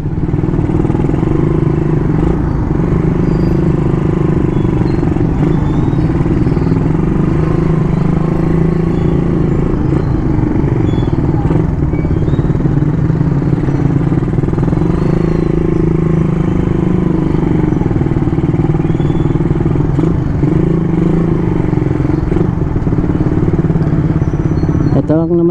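A motorcycle moving through city traffic, its engine a continuous close drone with other vehicles around it, while someone talks over it throughout.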